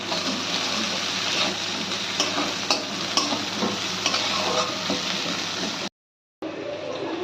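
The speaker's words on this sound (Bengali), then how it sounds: "এবার সব একসঙ্গে ভালো করে আমরা এটাকে ভেজে নেব" Chopped onion and green chilli fry in a pan with a steady, close sizzle and crackle, broken by occasional stirring scrapes, then a brief silence before the sizzling resumes.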